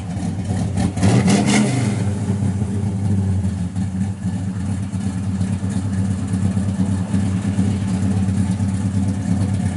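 A 1964 Chevrolet Chevelle Malibu SS 396 with its exhaust dumps open revs sharply once near the start, then settles into a deep, rumbling idle that carries on steadily and close by.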